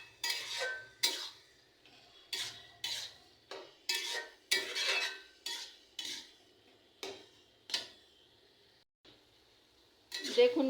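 Spice paste stirred in a pot for mechri, with a run of sharp clinking, scraping strokes from a utensil against the pot, repeated in uneven bursts, close and fairly loud, with no talk.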